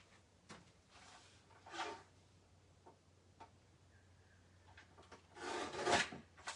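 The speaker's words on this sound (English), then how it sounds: "I'm gonna just chop with my tabletop trimmer that edge there" A tabletop paper trimmer chops the edge off a piece of card in a quiet room: faint scattered rubs and taps, then one short rasping slice near the end.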